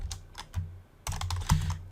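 Quiet clicks of typing on a computer keyboard, short irregular clusters of key presses that are close and soft, with no talk.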